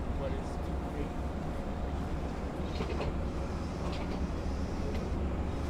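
Continuous low rumbling and rattling of a Long Island Rail Road train rolling forward along the tracks at Westhampton station, steady and fairly loud, with faint voices mixed into the noise.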